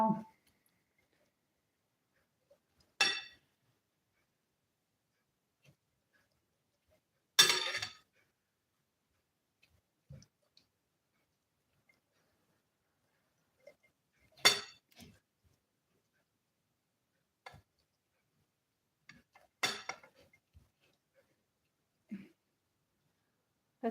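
Artichoke pieces being packed into a glass jar, sparse sharp clinks of glass at irregular intervals, with long quiet gaps between them and faint movement noises.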